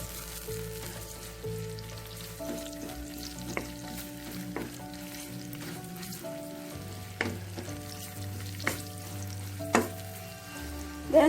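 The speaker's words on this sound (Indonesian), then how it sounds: "Dan masukkan bawang merahnya, goreng setengah mateng gitu ya" Shallots frying in a pan, a steady close sizzle with scattered sharp pops and stirring clicks running throughout, with no voices.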